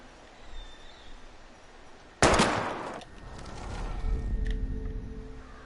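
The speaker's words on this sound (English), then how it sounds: "We're gonna shoot all these bottles without wasting a single bullet." A single loud gunshot from a pistol firing at bottles in the game Life is Strange, a sharp crack followed by a decaying ringing tail over quiet ambience.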